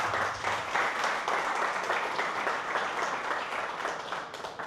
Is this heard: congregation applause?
yes